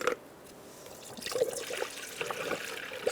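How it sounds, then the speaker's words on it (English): Antifreeze coolant, a 50-50 mix, poured into the cooling system of a 2007-2012 Nissan Altima, a soft close trickle and gurgle of liquid with small bubbling splashes. "we need to refill our antifreeze coolant"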